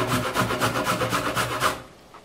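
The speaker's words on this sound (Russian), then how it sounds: "Берем 2 крупные морковки и натираем на крупную терку." Two large carrots are rubbed against a coarse grater in a quick, even rhythm of rasping strokes, close and loud, before the scraping stops abruptly.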